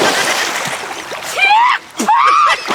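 A person splashes and falls into dirty water in an Awadhi village comedy skit. The loud splash and sloshing sit among excited voices and shouting.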